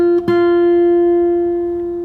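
A fingerstyle guitar pull-off is followed by quick plucks on the second string, and a single note then rings out and slowly fades, close and clear with no talking.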